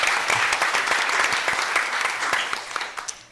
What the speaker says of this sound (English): so we can just give her a round of applause